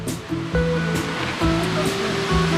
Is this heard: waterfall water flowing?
yes